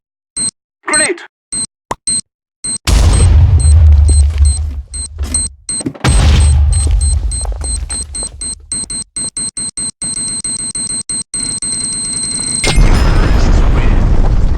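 A grenade goes off in Minestrike, the Minecraft shooter mode on the Mineplex server, with two loud, heavy booms spaced a few seconds apart and a long rumbling tail, set against a steady train of high electronic beeps.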